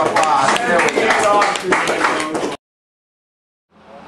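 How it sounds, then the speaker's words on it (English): A crowd claps steadily for a couple of seconds, fairly loud and close, then it cuts to silence before a faint sound returns. "Give him a round of applause."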